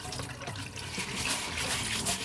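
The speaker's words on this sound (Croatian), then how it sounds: "Rižu treba sada dobro oprati, dobro znači ovako ispod vode." Rice rinsed under running tap water, a soft continuous splashing and trickling close by, fairly quiet and steady.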